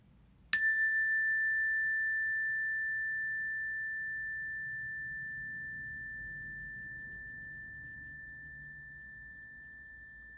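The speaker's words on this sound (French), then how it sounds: "Je vais sonner une cloche." A single meditation bell is struck once, giving a clear bright ring that sustains and slowly fades over several seconds in a quiet room.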